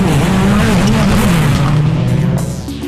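A Ford rally car at the 2004 WRC Mexico, driven flat out despite damage, produces a loud, close, sustained engine roar with wavering pitch that fades slightly at the end.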